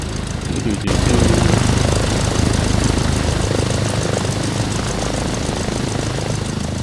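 A Cessna piston engine idles on the ramp in the FSX flight simulator with the A2A Cessna, a steady low propeller drone that swells after a short quieter start and then holds evenly throughout.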